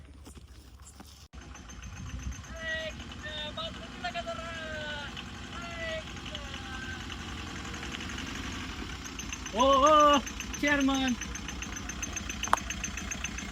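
A vehicle engine idles in a village setting as a low, steady rumble running throughout, while voices call out over it.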